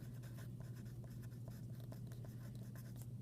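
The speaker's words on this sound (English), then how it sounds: "You may have to write small to fit it on here" A pencil writing small on paper, soft continuous scratching strokes up close, steady and quiet with no talking.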